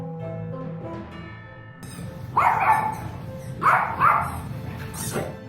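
A small dog barks in several sharp bursts, close and loud, with brief pauses between them over a steady low background hum.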